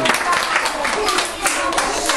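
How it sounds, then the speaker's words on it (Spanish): Youngsters clapping for a guitarist during a visit, individual hand claps audible in a quick uneven patter, fairly close and loud, with children's voices mixed in. "Un aplauso grande, chavales."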